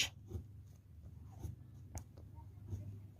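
A pen writes numbers on paper during a farming lesson calculation, producing faint, close scratchy strokes in short bursts over a quiet low hum.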